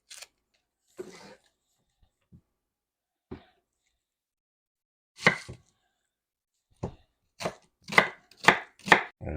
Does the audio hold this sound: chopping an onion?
yes